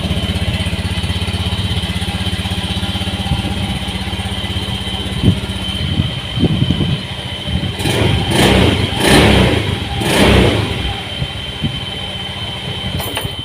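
A Honda Beat fuel-injected scooter with a dead electric starter is kick-started, its engine catching and running with a steady mid-pitched putter, then revving up in several loud bursts close by.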